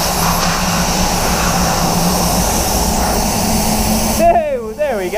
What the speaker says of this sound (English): The belt stopped slipping. You could actually notice an increase in the airflow in the booth.